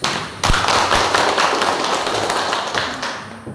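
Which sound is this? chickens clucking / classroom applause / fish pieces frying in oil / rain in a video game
classroom applause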